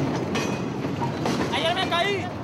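A moving freight train in Mexico rumbles steadily with rail noise throughout, while voices talk over it.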